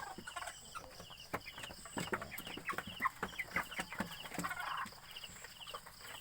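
Month-old chickens cluck and peep in soft, scattered bursts over a low background hum, with no voices, heard fairly close but quiet.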